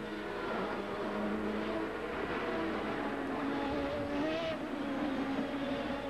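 Champ Car race cars roar past at the 2004 Monterrey Grand Prix, a dense continuous engine drone with rising and falling pitch as several cars pass in quick succession, loud and steady throughout.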